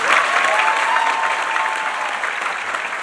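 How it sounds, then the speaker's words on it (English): Sustained audience applause at a middle school graduation ceremony honoring the graduating class, a dense, steady wash of many hands clapping at close range with no speech over it. "So let's have one more round of applause for this class."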